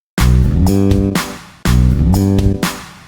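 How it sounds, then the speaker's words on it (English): A synth bass note rises in a smooth slide into a held higher pitch, played twice in a row, loud and alone. "Let's make this note longer to create a slide up to this note"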